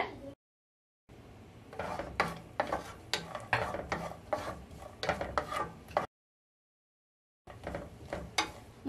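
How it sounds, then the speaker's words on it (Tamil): Cashews and raisins frying in ghee in a pan are stirred with repeated scraping strokes that come in short bursts separated by brief silences, close and fairly quiet. "முந்திரி பருப்புல நல்லா பிரவுன் கலர் ஆகி திராட்சை எல்லாம் உப்பி வர வரைக்கும் அப்படியே இருக்கட்டும்"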